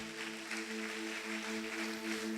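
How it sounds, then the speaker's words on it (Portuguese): Church congregation applauding during a Sunday service, a soft, fairly distant patter of clapping over sustained keyboard chords. "Você pode aplaudir também o Senhor por essa verdade da palavra."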